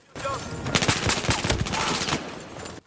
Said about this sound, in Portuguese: Cada tiro tem peso, cada explosão parece real.